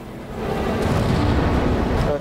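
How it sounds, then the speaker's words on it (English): Explosions in the video game Halo 4 make a sustained deep rumbling blast that swells and holds for about two seconds, loud and dense, before cutting off. "They're exploding. Their explosions are crap."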